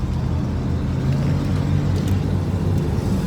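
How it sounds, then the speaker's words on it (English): A loud 1992 Chevrolet Caprice engine rumbles steadily and close by, a deep continuous drone with no voices. "Very loud car."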